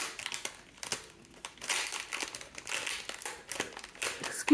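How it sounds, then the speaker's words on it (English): Crinkly plastic packaging of Halloween craft embellishments being torn open and crumpled by hand, a close, continuous run of sharp crackles and rustles with brief pauses, no talking. "Excuse me while I loudly open the packaging."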